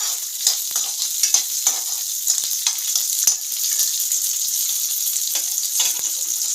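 A handful of small onions frying in a pan for a mutton-flavoured chickpea sundal curry, with a bright steady sizzle and a series of quick stirring scrapes close by.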